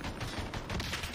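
Gunfire in Call of Duty: Warzone Pacific, a dense burst of rapid shots crackling close and loud through a busy, noisy battle mix with no pauses.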